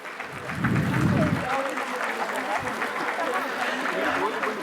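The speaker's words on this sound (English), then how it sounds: "kindly give a big applause" An audience at a Scouts and Guides ceremony honouring women achievers applauds in a dense, steady, sustained burst, with voices mixed in.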